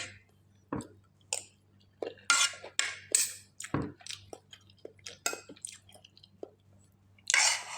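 Someone chews crunchy pickled bamboo shoot curry with catfish up close, with irregular wet crunches and bites mixed with occasional clinks of a spoon or dish.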